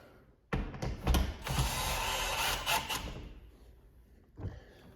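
Tech screws being driven into a Hormann garage door hinge, a close, loud burst of buzzing, grinding mechanical noise lasting a couple of seconds, then tapering off with a brief bump near the end.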